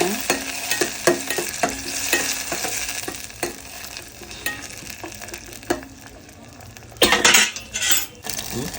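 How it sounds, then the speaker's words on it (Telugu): Vegetable manchurian is stirred in a hot pan with soy sauce. A spoon scrapes and clinks against the metal in quick repeated strokes over constant sizzling, with a louder burst near the end. "తర్వాత సోయా సాస్ వేసుకోవాలి కొంచెం బాగా కలుపుకుంటూ ఉండాలండి ఇలా"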